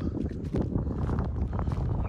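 Outdoor wind in Dakar, Senegal, buffets a phone microphone without a windscreen, making a continuous low, rumbling roar with gusty swells and no clear voice above it.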